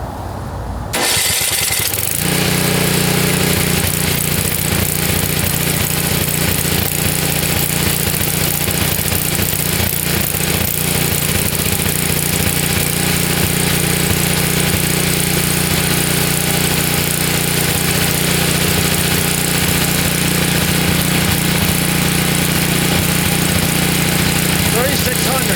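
A John Deere Frontier snowblower engine starts and then runs steadily on high throttle, a loud continuous drone with a strong low hum that holds evenly for the rest of the time, close by.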